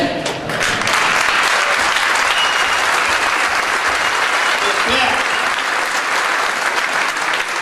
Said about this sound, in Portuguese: Então, vamos aplaudir direito.